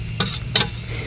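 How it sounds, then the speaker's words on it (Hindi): Carrots tipped into melted desi ghee and stirred, two bursts of sharp sizzle and scraping against a low, steady hiss. "तो घी हमारा पिघल चुका है, अब इसमें डाल देंगे गाजर को"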